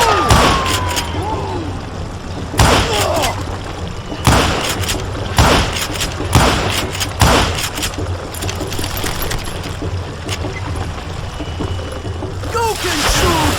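Gunfire and dynamite blasts in the western shooter game Call of Juarez: Gunslinger, a run of loud, sharp bangs and booms spaced every second or two over a continuous rumbling game background, with a voice talking at points.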